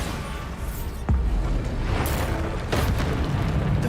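A Bombarda spell explosion in Hogwarts Legacy: a loud, close boom with a booming blast at about one second, then further bursts that settle into a rumbling tail.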